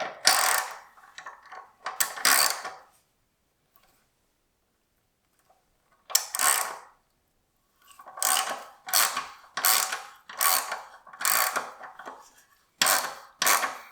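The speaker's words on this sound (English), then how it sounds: "let's get all these nuts and bolts off. As I said, it's a 12 mil over here, so we'll just loosen that guy off." A hand ratchet loosens 12 mm bolts on a 2021 Triumph Street Triple RS motorcycle during an exhaust install, clicking in several close, rapid bursts separated by short pauses.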